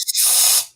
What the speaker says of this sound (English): Have you ever wanted your own personal blower?